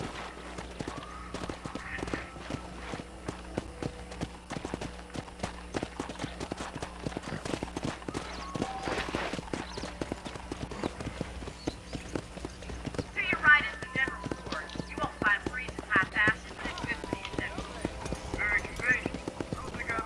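Steady clip-clop of horse hooves at a walking pace on a ranch in Red Dead Redemption, with a horse whinnying briefly and a voice talking over the top.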